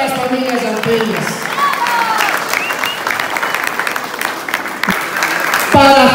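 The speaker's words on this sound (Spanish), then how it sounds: "Un aplauso para cada uno de ustedes" A large crowd at a political event claps loudly and continuously, with a voice over a sound system heard through the applause.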